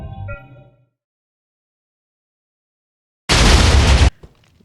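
A TNT explosion in Minecraft with the Create Aeronautics mod: a single loud, broad boom lasting under a second after a long silence, followed by a faint debris tail, preceded by a short fading game tone.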